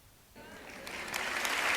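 Applause from an audience swells in quickly after a quiet moment, rising into dense, moderately loud clapping that builds toward the end.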